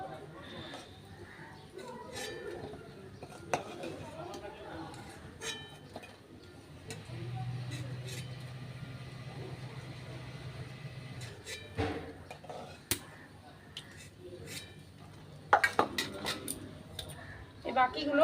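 Fried soybean barfis being lifted from a pan with a metal utensil, soft scattered clinks and scrapes under a steady faint sizzle while someone speaks throughout.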